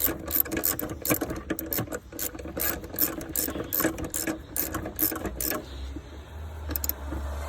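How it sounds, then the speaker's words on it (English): A ratchet tightening the nut on a blow-off valve fitted to a 2020 Ford Explorer ST, with rapid close clicking strokes in repeated bursts that ease off near the end. "I have no problem showing you how to tighten the nut"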